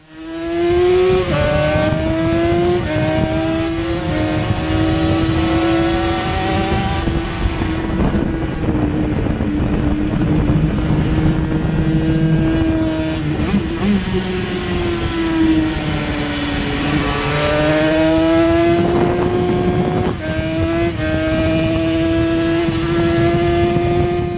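A Yamaha TZ350 two-stroke racing motorcycle roars continuously at Donington, loud and close, its harsh buzzing engine note climbing through gears with brief dips at each shift before rising again.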